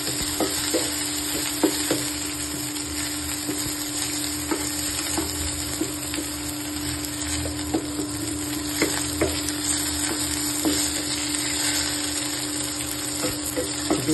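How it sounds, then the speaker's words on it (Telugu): A tempering with curry leaves fries for mango dal, a steady bright sizzle with occasional stirring clinks and pops, close and continuous, with no one talking. "ఇలా ఒక 2-3 seconds అలాగా తిప్పేసుకుని కరివేపాకు వేసుకోండి"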